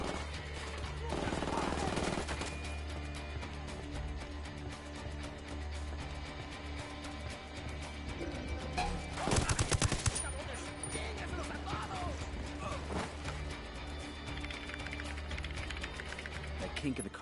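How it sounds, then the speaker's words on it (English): Gunfire rattles through a cartel shootout in a PS4 video game, as bursts of shots in sustained waves with a louder cluster in the middle. A voice talks over the shooting. "Opening fire on these fuckers."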